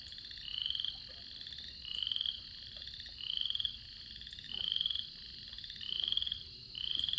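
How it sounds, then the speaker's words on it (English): Frogs croak at night in a steady chorus, with regular bursts of calling about every second and a half over a constant background trill, nearby and fairly loud with no voices. "Hear them frogs?"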